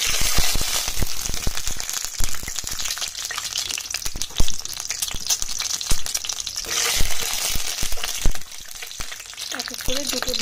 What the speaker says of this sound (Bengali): এবার ডিমগুলো ছেড়ে দেব।